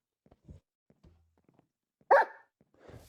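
A dog in the video game Minecraft barks once sharply and fairly close, then gives a softer second yelp, with faint game clicks and footsteps around it.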